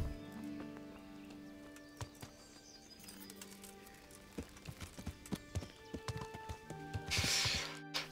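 Horse hooves clip-clopping in the video game Kingdom Come: Deliverance, a run of distinct hoofbeats that quickens into a steady rhythm, with game music tones and a brief burst of bird wings near the end.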